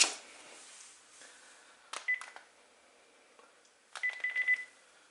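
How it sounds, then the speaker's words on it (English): Quiet electronic beeps from a Panasonic KX-TG5243 cordless phone's intercom between a handset and the base: a short beep cluster near the two-second mark, then a quick run of several beeps about two seconds later. "Testing out the intercom feature from the third handset to the main bass unit"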